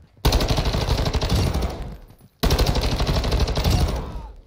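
Sustained automatic gunfire in the video game DMZ, two long loud bursts of rapid shots separated by a brief pause, close and dominant.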